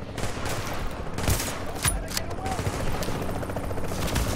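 Automatic rifle fire in the video game The Division, a dense rapid burst of shots with sharp spikes, close and loud over steady background noise.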